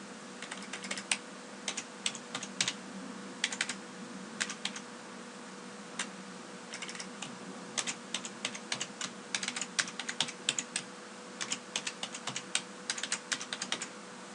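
Keys clatter on a computer keyboard as a password is entered, quick irregular bursts of close, crisp taps with short pauses, quiet room and no voices.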